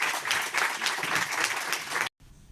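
A conference audience applauds a speaker at the end of a talk on soil fungi and forests, steady close clapping that stops abruptly near the end.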